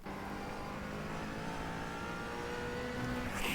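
A McLaren 570 GT4 race car in a racing video game at Bathurst, its engine a steady, faint, continuous drone with a slight rise in revs near the end.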